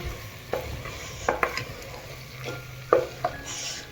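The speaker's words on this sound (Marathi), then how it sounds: "1-2 मिनिट असं हलवून घ्यायचं आहे बघा याला" A spoon stirs thick carrot halwa in a pan, with soft scraping strokes and a few sharp clinks against the metal over a faint sizzle.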